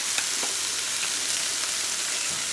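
Pepper, cumin powder and salt sizzle in a hot pan with a steady, even hiss and a few faint clicks, close and alone with no talk.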